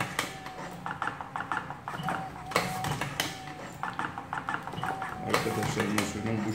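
A hopper filling machine with a timer runs nearby, giving a busy stream of clacking, tapping mechanical knocks in a repeating rhythm, with voices heard over it.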